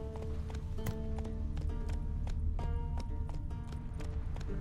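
Hooves of Roach, a horse in The Witcher 3 video game, clopping in a steady repeated rhythm under a dense, continuous game soundscape, with faint speech.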